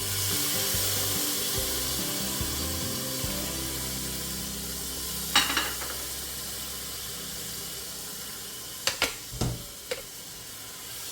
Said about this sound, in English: To this I'll be adding the chopped tomatoes.